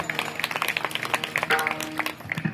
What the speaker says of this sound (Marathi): ह्या पोरांसाठी जोरदार टाळ्या झाल्या पाहिजे.